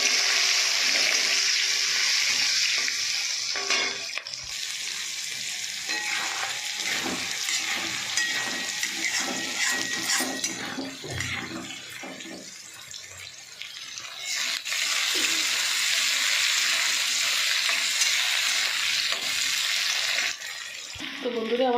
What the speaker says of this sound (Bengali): মানে আমি পেঁয়াজগুলো দিয়ে দেবো